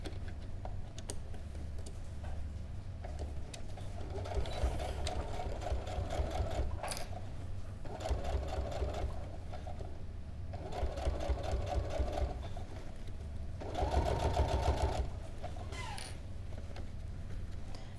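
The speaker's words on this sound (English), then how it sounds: "I sort of do like little short bursts of sewing" A sewing machine stitches a Queeny bag in several short bursts of rapid, even mechanical rattling, each run separated by brief pauses, close and fairly quiet.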